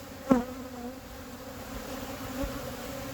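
Honey bees buzzing in a hive during an inspection, a low steady drone with one sharp close buzz near the start and a softer one later, no talking.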